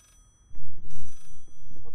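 A telephone rings in the horror video game Layers of Fear, a loud, close bell-like ring bursting in after a quiet moment and sounding twice in quick succession.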